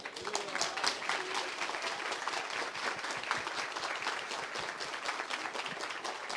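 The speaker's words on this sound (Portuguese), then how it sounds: "Uma salva de palmas." An audience at an integrative medicine symposium gives sustained, even applause. The dense clapping from many hands continues steadily for several seconds at a moderate distance.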